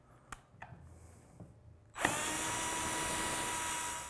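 A power drill backs screws out of the front panel of an ELAC speaker: a few light clicks and taps, then the drill whirs up loud and runs steadily, close by.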